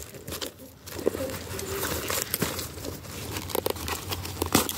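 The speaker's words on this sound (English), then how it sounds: "You just have to run a blade up the welt" A knife blade slicing up the welt of a leather knife sheath, cutting the stitches open, with dense close crinkling, tearing and scraping in short irregular bursts.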